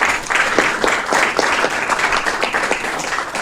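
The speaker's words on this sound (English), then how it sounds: "Big round of applause" Applause for the mayor's guests at a city council meeting, a full, continuous round of clapping from the audience with a steady, even rhythm throughout.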